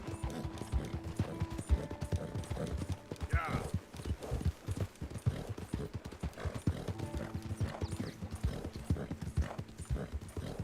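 Horse hooves gallop in Red Dead, a rapid continuous clip-clop with an occasional whinny, while people talk over the hoofbeats throughout.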